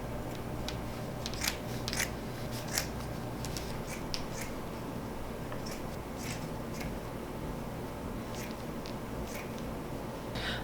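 Scissors cutting folded sweater fabric into pieces for a fabric pumpkin, a steady run of soft crunchy snips close by over a quiet room hum, no talking.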